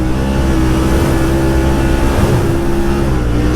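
Yamaha RMAX 1000 side-by-side engine running loud and close while riding, a steady droning roar with strong low harmonics and slight pitch shifts as the throttle changes.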